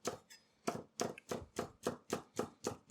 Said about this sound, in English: A little bit of scallion cut up. Doesn't have to be perfect cuts. Could be just a little rough chop.